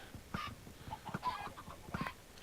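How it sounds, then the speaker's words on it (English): Several chickens from a spawner in Minecraft cluck in quick, bright, overlapping bursts, close and continuous. "functional yet noisy chicken spawner"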